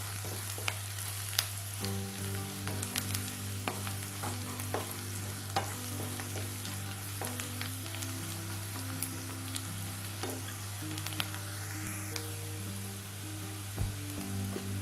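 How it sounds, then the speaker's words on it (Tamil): A spoon stirs chilli powder, sambar powder and turmeric into a frying mixture in a pan while making okra rice, with soft scraping and a gentle sizzle under steady background music. "மிளகாய்த்தூள், சாம்பார் தூள், எல்லாம் சேர்த்து நல்லா மிக்ஸ் பண்ணி விடுங்க."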